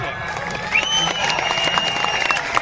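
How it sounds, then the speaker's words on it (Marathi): Crowd at a wrestling match breaking into sustained applause and cheering, a dense steady wash of clapping that swells slightly midway, with a voice talking over it. "एकदा पब्लिक जोरदार टाळ्या."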